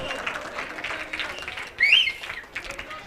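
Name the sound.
crowd applause for the team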